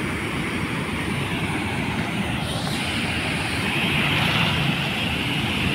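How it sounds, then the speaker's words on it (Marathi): Water pours over a flooded weir on the Bhima river in Pune District, a steady, loud, broadband roar that holds at the same level throughout, with no voices over it. "जबरदस्त पाण्याचा प्रेशर आणि आवाज आहे."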